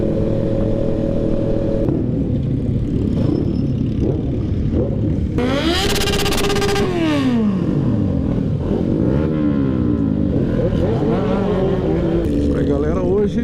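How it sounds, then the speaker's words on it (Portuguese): Four-cylinder Kawasaki Z800 and Z750 motorcycles rev hard at a motorcycle show in Botucatu, several sharp climbing revs and falling pitches over a continuous close engine roar, with a person talking under the noise. "Moto 4 cilindros berra muito."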